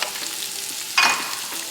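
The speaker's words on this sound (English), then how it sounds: "we're just gonna let those saute for a while so they kind of get al dente or a little more softened" Jalapeno, red peppers and red onions sizzle steadily in a hot pan, with a brief louder stir or toss partway through.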